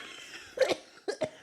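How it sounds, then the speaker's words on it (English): A single cough is followed shortly by two more quick coughs, close and clear against a quiet background. "so I start coughing over it so that I'm not laughing at the person"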